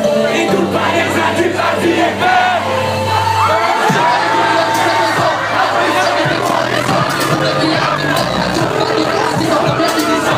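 Dense, loud concert crowd packed into a mosh pit at a show in Rennes, with shouting, cheering and babble churning over thumping music throughout, no gaps or quiet moments.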